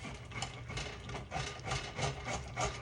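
A stiff, straight-edged spatula scrapes thick grits and shrimp from a pan, making a continuous rough rasping that rises and falls in repeated close strokes with no voices.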